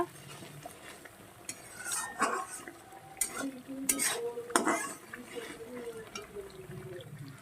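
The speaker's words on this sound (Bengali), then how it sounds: "এবার এটা দিয়ে আরও সুন্দর করে আমি কষিয়ে নেব" Spices and chilli powder stir-fried in a pan, with repeated scraping and clattering of a spoon against metal over a steady sizzle and a few sharp knocks.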